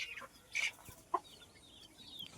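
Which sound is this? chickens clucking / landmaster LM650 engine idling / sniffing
chickens clucking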